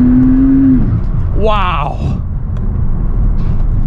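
Low engine rumble with turbo whooshes inside a Mercedes SL65 Black Series with 661 horsepower, steady and loud throughout, with a brief rising whine midway and a single exclamation from someone in the cabin.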